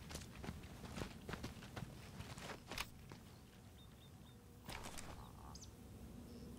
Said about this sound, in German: Nee, das sind meine Schritte.